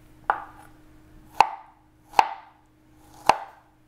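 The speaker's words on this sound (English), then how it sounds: "just grab your strawberry, literally just cut it probably in threes or fours" Knife slicing fresh strawberries on a cutting board, four crisp separate chops at uneven intervals, close and clean with quiet between them.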